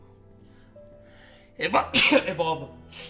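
A single loud, close sneeze bursts out after a few spoken words, with a sharp explosive onset and a brief trailing breathy release.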